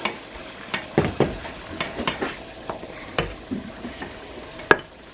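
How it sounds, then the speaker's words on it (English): A spoon stirs flour into food cooking in a pan, giving irregular close scrapes and clinks against the pan over a soft, steady sizzle, with no talking. "I'm going to add a little bit of flour and just stir that"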